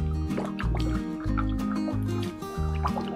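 Homemade limoncello drips and gurgles through a filter, with liquid trickling close by beneath steady background music.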